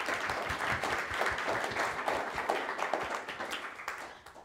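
An audience applauds a panel at a free software event, a moderately loud patter of many hands clapping that rises and fades slightly across a few seconds.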